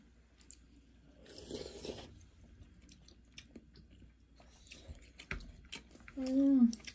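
Someone eats mackerel during a home-cooked meal, with soft, close, intermittent chewing and biting sounds over a quiet room and a short voice near the end.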